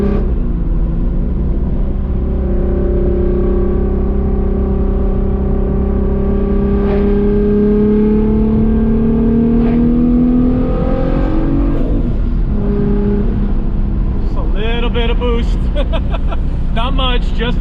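A tuned 3.2-liter car engine on a stock block with cast internals, running a little boost, revs up steadily, its pitch climbing over several seconds. A loud, continuous drone ends in a rougher burst.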